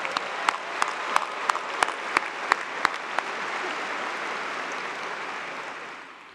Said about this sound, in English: Will you please give a big, loud round of applause to Anna Grace for the great job she did singing the national anthem.